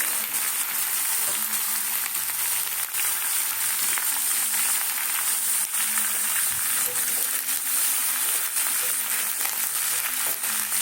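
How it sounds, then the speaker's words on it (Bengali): Cabbage, onion and mixed vegetables fry in a pan for a vegetarian vegetable dish, giving a steady, loud hiss of sizzling oil that runs unbroken throughout with faint stirring scrapes and no talking. "ভাজবো সুন্দর করে"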